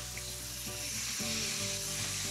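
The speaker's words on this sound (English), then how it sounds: "We'll just deglaze with a little bit of wine." Quail stuffing with mushrooms, sausage and scallions sizzles loudly in a hot pan as wine is added to deglaze it, a continuous close hiss with a few stirring scrapes.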